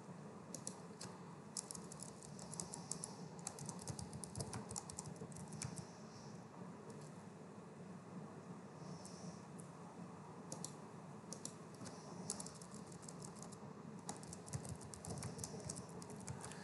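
Steady clicking of keys on a computer keyboard as a password is typed, with soft irregular taps running throughout at close range and no talking.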